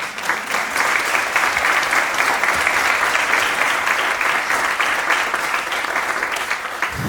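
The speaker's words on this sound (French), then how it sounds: "Alors vous pouvez d'ores et déjà vous applaudir." A theatre audience at a one-man cabaret show applauds steadily, a loud, dense wash of clapping that holds across the whole stretch.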